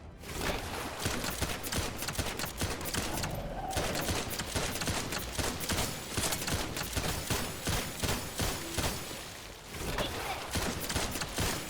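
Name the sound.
gunfire from the video game The First Descendant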